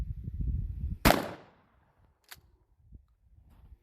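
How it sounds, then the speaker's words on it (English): A single loud shotgun blast at close range firing Winchester Ranger double-aught buckshot at a target, a sharp crack that decays quickly into quiet, with low rumble before it and a faint click afterward. "I'm going to load one round, and I'm going to fire it at the heart of the target"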